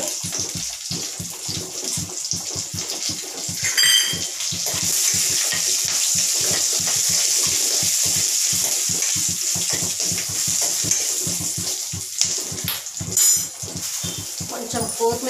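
Curry leaves and dried red chilies fry in hot oil, giving a steady crackling sizzle with sharper spits and pops, and a voice talks over it.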